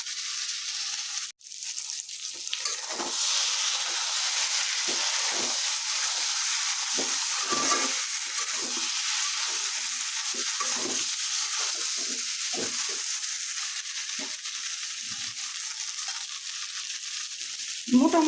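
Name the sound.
meat and potato curry cooking in a pan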